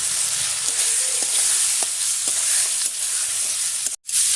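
Garlic paste, ginger paste and ground coriander fry in a pot with a loud, constant hiss, light stirring taps now and then, and a brief dropout near the end.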